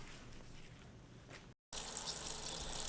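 Tap water running steadily over orach leaves being washed in a sink indoors, a soft hiss that cuts out briefly and then returns louder and splashier.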